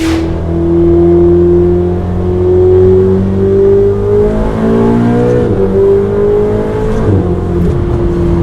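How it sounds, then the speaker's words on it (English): A Ferrari 488 GTB twin-turbo engine revs up steadily, its pitch climbing smoothly with a whirring turbo note, close and loud, no talking. "And you could hear those turbos."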